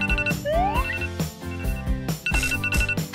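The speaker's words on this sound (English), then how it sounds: "Okay, let's shut off this alarm." A phone alarm sounds in a bedroom, its repeating electronic ringtone chiming in bright bursts over busy background music, loud and close with no voices.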